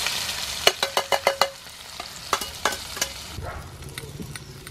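Onions dropped into hot oil for a Kerala quail pepper roast, stirred with a series of sharp scraping clicks over a steady soft sizzle, then the frying settles into a quieter hiss.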